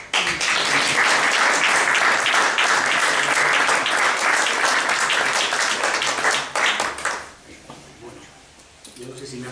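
Loud, dense welcoming applause from an audience at a book presentation fills most of the clip, then fades out as a voice begins speaking.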